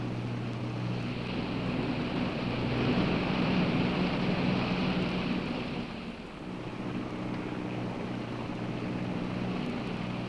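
Boat engines drone steadily out on the water, a loud, continuous low rumble mixed with wind and wave noise that dips briefly midway before resuming.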